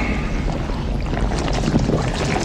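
A river of slime flows through a tiled underground chamber as a steady, dense rushing wash of liquid, loud and continuous for the whole stretch.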